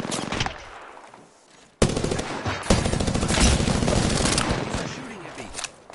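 Rapid bursts of video game gunfire crackle loud and dense through most of the moment, after a brief quieter stretch and a sharp onset, with a player talking over the shooting.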